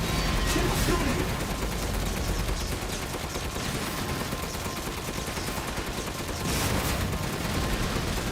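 Rapid video game gunfire from Resident Evil 8 rattles continuously for the whole stretch, a loud dense barrage with heavier bursts near the start and end.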